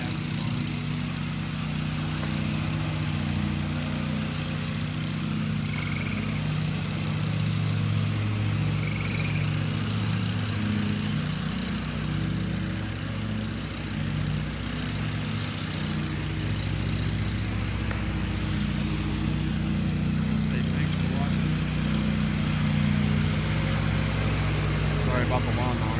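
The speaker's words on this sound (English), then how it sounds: "Sorry about the lawnmower." A lawn mower runs steadily nearby for the whole stretch, a continuous low engine drone with a hum that stays fairly even, while faint background voices come and go beneath it.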